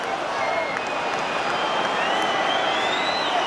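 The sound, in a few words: football crowd calling for the final whistle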